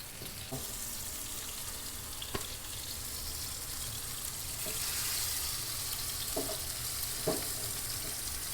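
Chicken burger patty frying in oil in a pan over a low flame, a steady close sizzle running throughout with a few faint clicks and taps, no voices.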